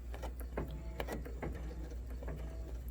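A Luminaire 2 sewing machine stitches a hexagon sash quilting pattern into a quilt, giving a continuous rapid mechanical whir with a steady rhythmic clatter of needle and gears, close and loud with no voice.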